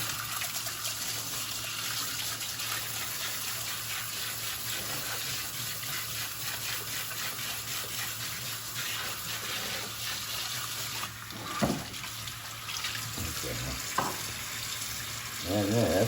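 Tap water runs steadily over parts of an Aobosi slow masticating juicer as they are rinsed, a constant close hiss of flowing water with a few clunks and knocks as the pieces are handled.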